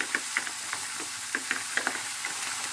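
A spoon stirs a sauce of vinegar, honey, salt and black pepper in a bowl, making light, quiet clinks and swishes at an irregular pace, with no talking.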